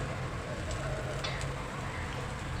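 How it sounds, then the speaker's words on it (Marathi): Bhajani thalipeeth fries in oil on an uncovered pan with a faint, steady sizzle and soft crackle that continues evenly throughout, with no talking. "आता झाकण न ठेवता खालची बाजू चांगली शेकू दे."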